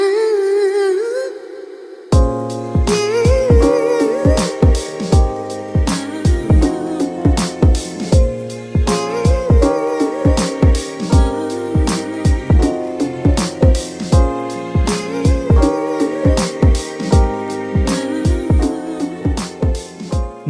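A soulful R&B sample built in Cubase 14 with studio delay and shimmer reverb repeats as a steady rhythmic loop, punchy low hits under a sustained melodic layer with a washy shimmering tail, loud and without talk.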